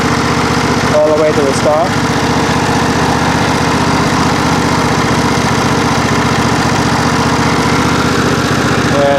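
A John Deere SST18 riding mower engine runs steadily and loudly nearby at a constant idle-like drone, with someone talking briefly over it.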